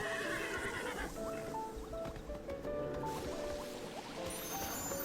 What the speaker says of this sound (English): It's not even like a pretty horsey.